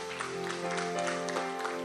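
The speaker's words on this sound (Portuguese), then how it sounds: "Aplauda o nosso Deus bem forte em nome de Jesus Cristo" A church congregation claps loudly over sustained worship music, with scattered sharper hand strikes in the steady texture.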